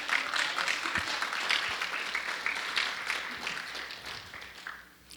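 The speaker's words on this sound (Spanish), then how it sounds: "Denle un aplauso fuerte al Señor." A church congregation applauds during a sermon. The clapping is broad and sustained with a few sharper claps standing out, then it tapers off toward the end.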